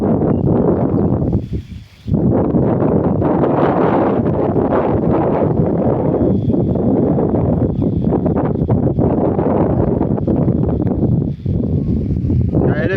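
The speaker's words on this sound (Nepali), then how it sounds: "यति मिठो हावा चलिरहेछ हेर्नुहोस्" A steady Himalayan breeze blows outdoors across green maize fields in spring, buffeting the microphone with a loud, continuous rushing roar that briefly drops away near the two-second mark.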